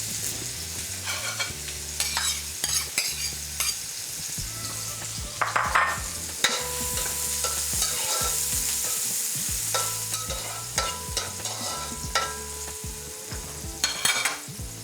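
Onions go into hot oil and fry with a continuous loud sizzle close by, while a utensil stirs and scrapes against the pan at an irregular pace.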